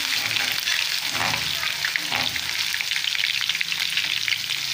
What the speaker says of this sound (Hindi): पहले हमने अदरक और लहसुन का पेस्ट जो है इसको हमने थोड़ा सा ब्राउन करना है, गोल्डन कर लेना है